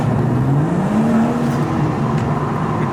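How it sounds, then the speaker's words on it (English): The engine of a BMW M140i hatchback accelerates, its drone rising steadily in pitch as the revs climb, loud and continuous with no voices over it. "It does sound like a great engine as well."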